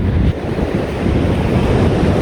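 Ocean waves wash at the water's edge on a beach in Navegantes, Brazil, a close, loud continuous surf rush mixed with wind buffeting the microphone.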